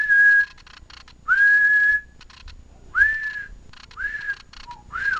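Someone whistles into a CB radio microphone in four or five separate steady notes with short pauses between them, close and clear with no talking.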